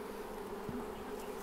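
Honey bees buzz steadily around a queen cage in a hive, a dense continuous drone close by that holds level with no voices.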